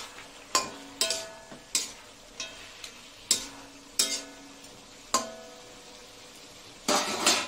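Katla fish heads stir-fried in a pot, a ladle scraping and knocking against the metal in sharp intermittent clacks, about a dozen over several seconds, with a soft sizzle underneath.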